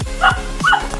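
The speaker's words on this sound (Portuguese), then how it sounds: "Olha o cachorro gritando aí." A dog gives two sharp yelping barks about half a second apart, close by and loud, with a whimpering edge to each.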